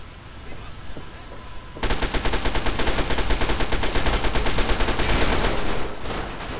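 Rapid automatic gunfire from the player's new gun in the video game Fallout 3 bursts in after a quiet stretch and keeps going as a loud, continuous stream of shots.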